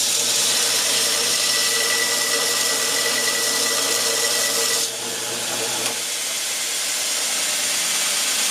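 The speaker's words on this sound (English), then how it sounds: "I got one of my 36 grits belts here, and I'm just going to flicker on and let's throw some sparks" A belt grinder running a coarse 36-grit belt against steel, throwing sparks while making a loud, steady, roaring hiss that dips briefly as contact changes, then continues close and alone.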